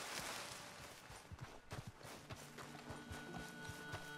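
Horse hooves clip-clop in the Red Dead Redemption 2 video game, a faint, rhythmic series of hoofbeats on hard ground, walking at an uneven pace over a low background hum.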